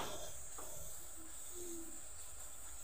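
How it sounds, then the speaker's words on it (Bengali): Jaggery melting in a hot kadai over a gas flame, giving a steady soft hiss throughout with a few faint bubbling ticks, no voices. "গুড়টা আমি একটু গলতে দেব।"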